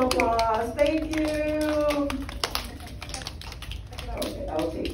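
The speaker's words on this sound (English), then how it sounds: "let's give them a round of applause" Kindergarten class claps during a lesson on disagreeing appropriately, with light, uneven hand claps under children's voices and chatter that carry through most of the moment.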